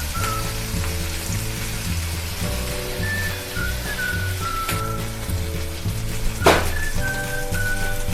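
Chicken slices frying in a pan give a steady, close sizzle for several seconds. Faint whistle-like tones run over the top, with a brief louder crackle burst partway through. No one speaks.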